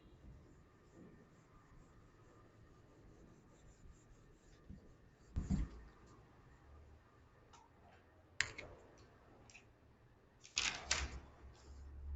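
A teacher writing notes in a geography class: quiet low background with a few distinct louder scratchy strokes and taps spaced several seconds apart, no speech.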